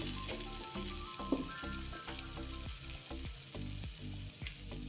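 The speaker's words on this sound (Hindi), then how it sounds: "सलाद बनाने के लिए पैन में मैंने 1 चम्मच ऑयल गर्म कर लिया है। अब इसमें हम बॉईल किए हुए छोले डाल देंगे।" Boiled chickpeas frying in a spoonful of hot oil in a pan for a salad, a steady close sizzle with scattered pops and stirring clicks throughout, no talking.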